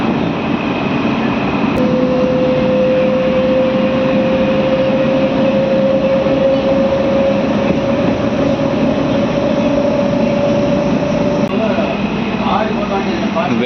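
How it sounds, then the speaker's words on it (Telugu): A DEMU passenger train running between Kurnool and Guntakal after leaving Ullindakonda gives a steady, loud onboard rumble, with a long sustained horn-like tone through most of it. "ఉల్లిందకొండ నుంచి మన ట్రైన్ బయలుదేరింది"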